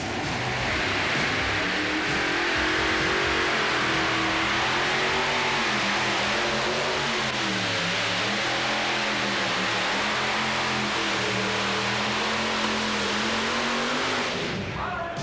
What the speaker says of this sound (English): there's no mistaking the ear-splitting cry of 3 and 4 high-dollar race engines found in the modified division